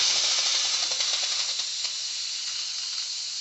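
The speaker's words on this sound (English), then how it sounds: "Release the steam, any steam that's left." Steam hissing loudly and continuously from the release valve of an electric pressure cooker after cooking dry black beans, with faint rattling clicks early on and a gradual slight fade.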